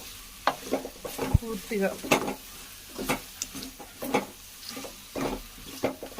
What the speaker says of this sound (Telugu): చూడండి, ఇప్పుడు వేసుకుంటున్నాను అనమాట ఉడకబెట్టుకున్న చికెన్.